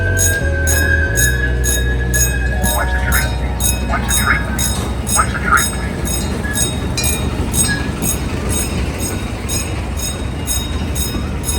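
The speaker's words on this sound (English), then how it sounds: "Where is the train? The train come around that way." A train rumbles past steadily with rhythmic clacking wheels and occasional squealing, loud and continuous throughout.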